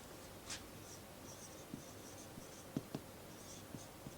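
A pen writes out a grammar rule in a quiet room, with faint scratchy strokes and a few sharp taps from the pen meeting the surface, spaced irregularly over a low background hiss.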